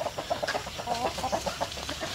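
Chickens cluck in a coop, a busy stream of short overlapping clucks from several birds, close and clear, with no talk.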